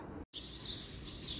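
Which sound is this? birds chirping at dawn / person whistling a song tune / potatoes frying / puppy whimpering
birds chirping at dawn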